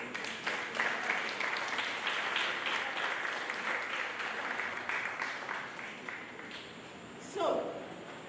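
Audience at a lecture event claps steadily for about seven seconds, a moderately loud even applause that gradually thins and fades out.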